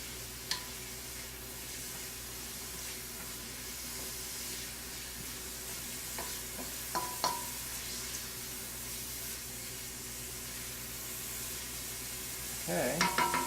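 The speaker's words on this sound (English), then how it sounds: "you can see how nice and green the vegetables stay because they're being stir-fried" Soft continuous sizzle of vegetables stir-frying for chop suey in a hot pan, with a few light clinks and stirring scrapes, no talking.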